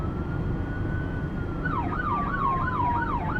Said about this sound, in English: Suddenly, through the piercing sirens and strobing lights, the stolen vehicle swerved into a parking lot